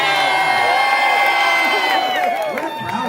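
A large town hall audience roars with sustained cheering, whoops and shouts, loud and dense throughout, a few voices rising above the crowd toward the end.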